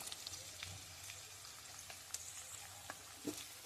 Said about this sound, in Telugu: ఒక 2 స్పూన్లు శనగపప్పు, 1 టీ స్పూన్ శనగపప్పు వేసుకొని వేపుకోవాలి